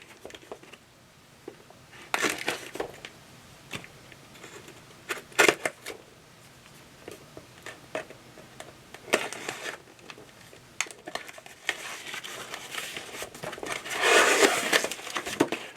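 A cardboard box is slit and torn open with a Revolt Knives rotor knife, giving scattered crackling, scraping and tearing bursts at close range, quiet between the bursts and loudest near the end.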